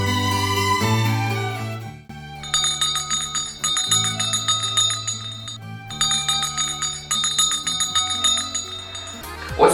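A school bell rings out at a last-bell ceremony marking the end of the school year, bright sustained ringing in long bursts with brief pauses, loud and close, with no talk over it.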